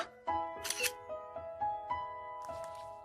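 Camera shutter clicks from a selfie being snapped in an anime scene, a few sharp clicks over a musical backdrop with tonal hum and a brief bright burst near the start.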